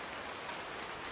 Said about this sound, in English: wait around for this rain to stop and the crops to dry up